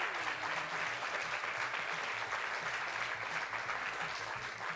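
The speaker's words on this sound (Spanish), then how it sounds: "Aplausos, sí, señor." A studio audience at a Spanish-language television talk show breaks into steady, dense applause, continuous and fairly loud throughout, with a low rhythmic hum beneath it.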